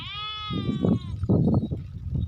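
A goat gives one long, wavering bleat nearby, followed by rough shuffling and rustling noises close to the listener.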